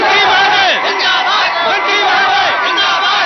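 A large crowd shouts in unison for a government minister, a loud, dense roar of many voices chanting and yelling continuously.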